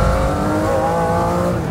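Rivian R1T electric pickup truck launching from 0 to 60 in three seconds flat, giving a loud, close, sustained surge of drive noise.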